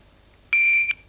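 A single short electronic buzz, the contestant buzzer on a 1980s television quiz show, sounds once, clear and close, against a quiet background.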